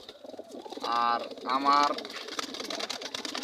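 Tournament racing pigeons cooing up close, two clear drawn-out coos followed by softer rustling and chatter, with someone talking over them.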